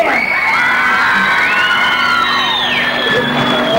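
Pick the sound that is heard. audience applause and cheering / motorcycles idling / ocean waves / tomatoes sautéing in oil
audience applause and cheering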